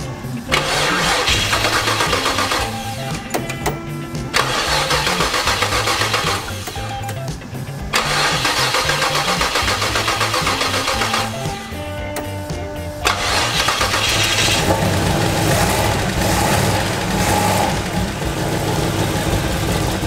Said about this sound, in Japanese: エンジンかけていきたいと思います